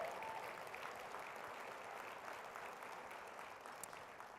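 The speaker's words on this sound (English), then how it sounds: "let's give Mike a big round of applause." Audience applause at a downtown business event fills the whole stretch as a steady, even wash of many hands clapping, moderately distant and without talk on top.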